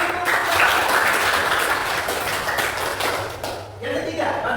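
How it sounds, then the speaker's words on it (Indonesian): Classroom applause from students during a lesson on Friday prayer, a dense steady patter of many hands filling the room, with voices talking over it. "Tepuk tangan."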